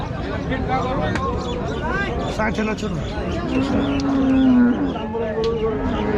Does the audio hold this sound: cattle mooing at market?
yes